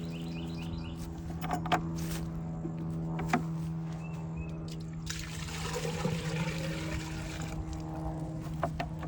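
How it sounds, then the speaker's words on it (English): Water sloshing and trickling inside a container being rinsed, with gurgles, small splashes and a pouring swirl in the middle, close and fairly quiet over a steady background hum. "before we do anything else, I want to rinse out the container"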